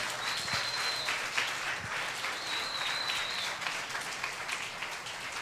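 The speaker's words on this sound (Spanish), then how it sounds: "Si vas a aplaudir, aplaude." A church congregation claps together in a steady, moderately loud burst of applause for several seconds, with no voices standing out.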